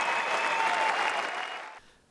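At Wimbledon, a crowd gives Lleyton Hewitt a standing ovation on his farewell from the grass courts. The dense, loud clapping holds steady, then quickly thins and fades out.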